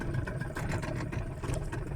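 A Yamaha 15 outboard boat engine runs steadily at close range, a continuous low mechanical drone with a fluttering, slightly uneven pulse throughout, with no other sounds over it.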